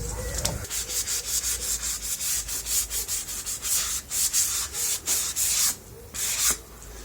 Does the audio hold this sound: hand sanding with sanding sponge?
yes